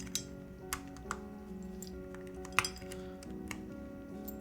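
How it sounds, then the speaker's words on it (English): Metal keyboard switch parts clink during a Holy60 keyboard build: a handful of sharp, light metallic clinks scattered irregularly over a quiet background hum, fairly close and alone without talk. "I love the metal clinking sound."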